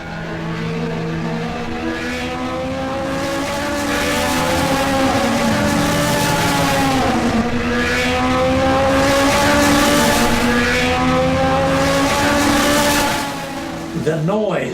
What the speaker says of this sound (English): The terrific acceleration of the cars.